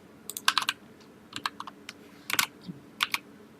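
Short bursts of typing on a computer keyboard, close and crisp, with clusters of quick key clicks separated by brief pauses, alone with no voices.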